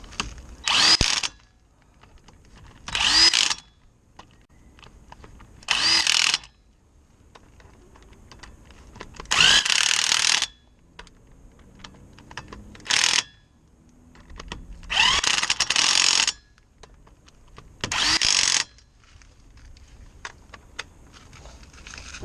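Impact wrench driving bolts on the brakes of a Mitsubishi Triton/L200 during a pad, disc and caliper change: seven loud, close bursts of whirring and rattling hammering, each lasting about a second, separated by short quiet pauses.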